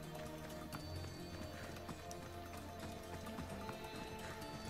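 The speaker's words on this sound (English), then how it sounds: "Where's my horse? Horse!" Horse hooves clip-clopping in the Assassin's Creed Odyssey video game, a steady faint patter of hoofbeats running under a dense, continuous game soundscape.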